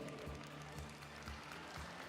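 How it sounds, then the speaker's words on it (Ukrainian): Audience applause for children at a gymnastics award ceremony in Kyiv, a soft, steady patter of many hands clapping at a distance, with faint crowd murmur underneath. "Давайте підтримаємо оплески своїх найкращих дітей."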